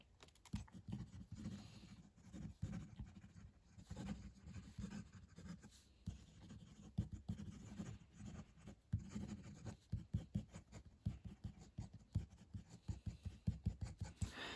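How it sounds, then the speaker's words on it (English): Monteverde Ritma fountain pen writing quickly on paper: close, quiet rapid scratching strokes in an uneven rhythm, growing into a denser patter of short nib scrapes toward the end. "Fast writing."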